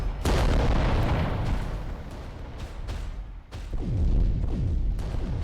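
Heavy weapons from a Reaver titan firing in the Adeptus Titanicus video game, loud repeated booming blasts with descending whistling tails, dense and continuous with several separate impacts.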